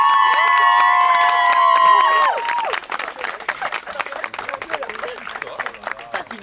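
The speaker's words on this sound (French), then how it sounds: "Je vous invite à faire un tonnerre d'applaudissements également pour Carla et Margot." Wedding guests break into applause in the second half, a dense wash of clapping with some cheering that follows a loud held musical passage with several bright tones.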